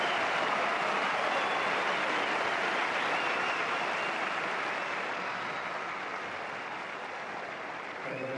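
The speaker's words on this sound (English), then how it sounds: "Even gets the round of applause from Nadal." Sustained applause from a tennis crowd at the Barcelona 2019 tournament, a steady broadband clatter of clapping that holds loud throughout and tapers slightly toward the end, with no talking over it.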